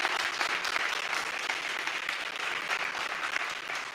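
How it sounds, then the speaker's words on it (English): Sustained applause from a crowd, dense and steady clapping throughout with no voices rising above it. "Big applause again for Ray Cloud."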